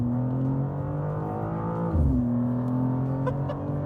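BMW M2 with automatic gearbox pulling hard from a standstill, a steady loud engine drone with a quick downshift-like drop near the middle, then the engine note climbing again in the cabin.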